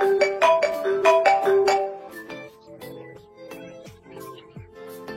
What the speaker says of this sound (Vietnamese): Trưởng phòng Trương, Vương Phàm vừa gọi điện thoại đến rồi.